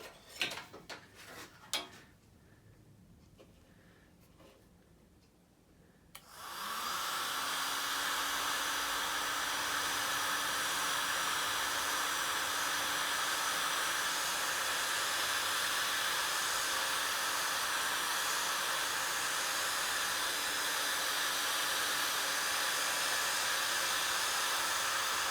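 A heat gun blows a loud, steady roar of hot air as heat shrink tubing is shrunk over crimped wiring on a Suzuki Bandit motorcycle during electrical earth and starter repairs; a few clicks and handling sounds come before it switches on and runs continuously.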